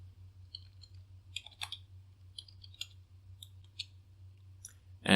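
Computer mouse clicks while grouping objects in Photoshop, a handful of small, close, dry clicks spaced irregularly over a steady low hum, ending in a sudden louder burst.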